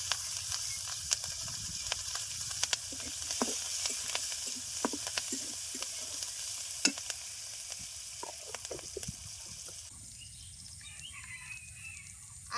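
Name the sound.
onion and green chilli frying in fish-frying oil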